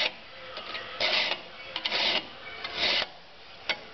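A metal file rasps across a rounded nut to reshape its faces, giving short, dry scraping strokes in an uneven rhythm, close and fairly loud, with brief pauses between passes.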